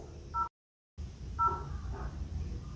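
Short beeping dial pad tones from a Samsung Galaxy S24 Ultra as numbers are tapped in, a few separate presses heard close by with a brief silent gap.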